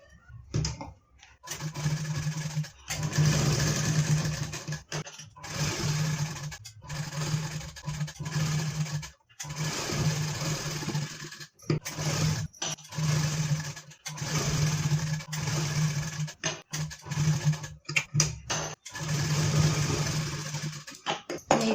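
Sewing machine stitching a peacock-coloured Kathapadar saree blouse, running steadily in repeated runs of several seconds separated by short pauses, close and clear with no talk.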